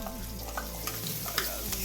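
Herring frying and being stirred in a pan with spices, a steady soft sizzle with faint scraping stirs and light clinks throughout.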